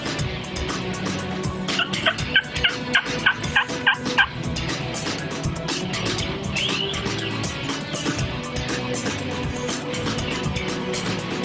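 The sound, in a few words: wild turkey gobbling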